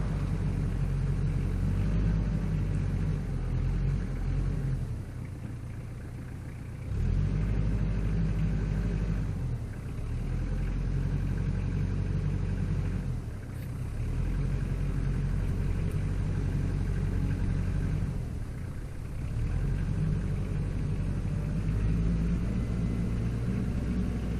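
A 4WD tractor fitted with tire chains grinds up a snowy hill on a hydrostatic drive, its engine a deep steady rumble that surges and dips several times as the throttle eases on and off.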